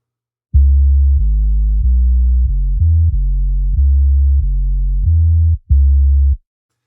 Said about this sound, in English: And this is the sub bass line.